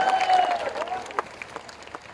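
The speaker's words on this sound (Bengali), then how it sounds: "ওনার জন্য একটা হাততালি আমি আশা করি" An audience at a large political rally applauds in a short burst of clapping that quickly fades, with a voice over it at first and a few scattered claps at the end.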